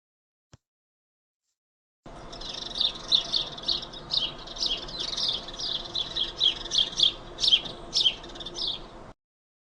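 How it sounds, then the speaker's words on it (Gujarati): A sparrow chirps in a lively, continuous string of bright, close tweets lasting several seconds after a brief silent start. "તો ચાલો આપણે સ્પેરોનો અવાજ સાંભળીએ"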